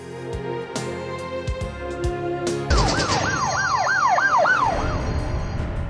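An ambulance siren starts partway through, a loud close wailing tone rising and falling in quick repeated sweeps over earlier tonal beeps.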